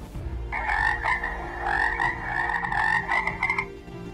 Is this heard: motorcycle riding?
no